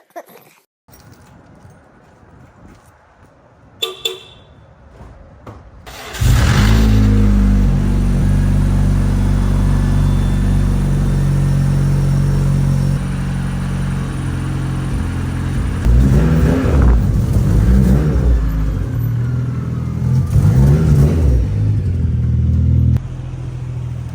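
2015 BMW 335i fitted with a VRSF catless downpipe and muffler delete, outdoors: after a few quiet seconds the engine fires up into a loud, deep, continuous rumble with rising revs, close by and alone.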